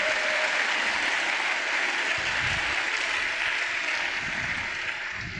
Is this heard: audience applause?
yes